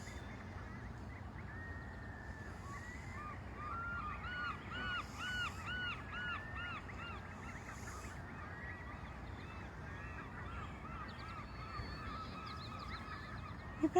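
Geese with goslings honk in repeated bursts at a middle distance over a steady outdoor wash of wind or water, with a few crow caws mixed in and no talk.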